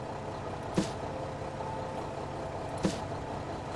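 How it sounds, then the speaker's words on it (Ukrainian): A delivery truck idling after pulling up in a grocery store simulator game, a low steady engine rumble broken by two sharp hissing bursts like air brakes. "Фура приїхала."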